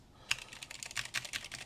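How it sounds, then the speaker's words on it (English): A new external keyboard for a Husky Hunter computer being typed on, a quick run of crisp, close clicks after a brief quiet start, fairly soft. "just wanted to show off the keyboard. The keyboard is working."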